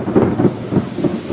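Rumbling thunder from a severe thunderstorm in Newport News, Virginia, rolling in low, repeated swells across the moment with a steady wash of rain-like noise beneath, fairly loud and continuous with no voices.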